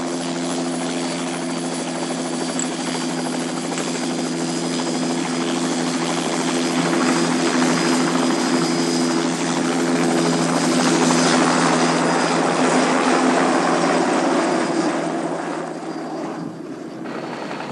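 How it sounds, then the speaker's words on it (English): A helicopter flies over a rugged canyon rim, its rotor and turbine roaring steadily and close, swelling slightly in the middle before easing off near the end. "today it takes a helicopter to locate them"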